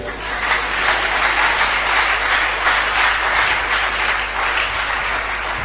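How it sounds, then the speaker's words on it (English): A large audience claps loudly and steadily in a continuous wash of applause at a sermon or talk, sustained throughout with no pauses, over a low background hum. "You are not clapping very well."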